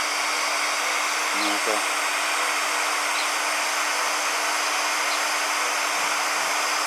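A Stanley Fatmax 2000 heat gun blows hot air with a steady, loud broadband hiss and hum close up, while a person speaks briefly over it.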